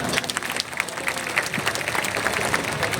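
A live audience at an abhang band performance applauds its sound engineer, dense steady clapping and crowd noise filling the whole stretch at close range.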